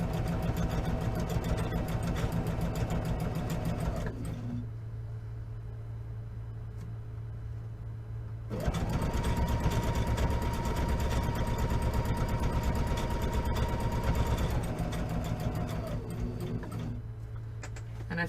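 A sewing machine stitching tote bag handles runs in two long steady bursts, its motor humming with a fast ticking needle, separated by a few quieter seconds where it slows or idles.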